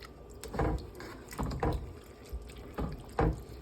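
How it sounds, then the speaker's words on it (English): Water poured into a pot of dal with vegetables while cooking, heard as several short splashing bursts separated by brief pauses, close by, with no talk. "I added just like 1/4 of a cup more water."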